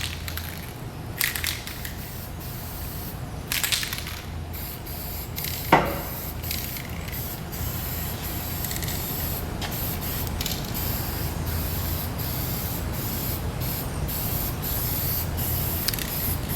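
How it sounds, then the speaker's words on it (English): Repeated hissing bursts of an aerosol spray paint can on a snow plow, short and long pulses close by, with a sharp knock partway through. "So we're going to clean it off and spray it with spray paint."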